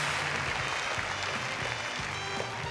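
A crowd of basketball fans at a Kyoto Hannaryz fan appreciation event applauds the team's interpreter coach, a dense, steady round of clapping that carries evenly throughout.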